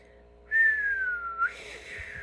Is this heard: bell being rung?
no